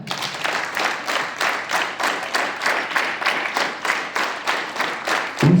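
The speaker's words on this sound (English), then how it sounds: "Hands up. Clap." Students at a school assembly clap together in rhythmic unison, about two claps per second in a steady repeating beat for several seconds, with no talk.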